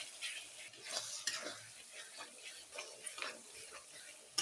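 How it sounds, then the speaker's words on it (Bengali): Fried potatoes with chili powder and turmeric are stirred in a pan, with soft irregular scrapes and clinks over a faint, quiet sizzle. "দিয়ে আবার মিক্স করে দিলাম।"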